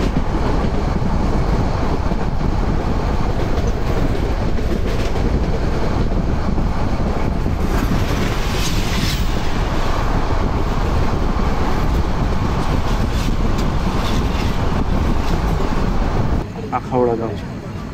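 A Probal Express train running on its journey from Cox's Bazar: a loud, continuous rumble of the carriages mixed with heavy wind buffeting, steady until a sudden change near the end.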